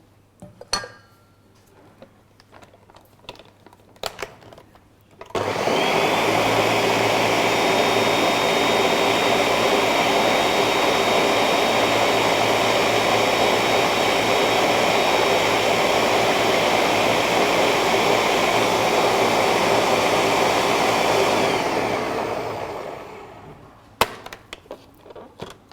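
A blender whirs loudly and steadily for about sixteen seconds, smoothing a pineapple cheesecake mixture, starting abruptly and winding down, with quiet kitchen clinks before and after.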